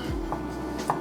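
Knife chopping bacon into small pieces on a cutting board, a few crisp close thuds spaced within about a second, with nothing else underneath.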